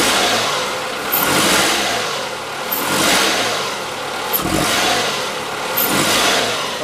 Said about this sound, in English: you want to put it in reverse, Mike?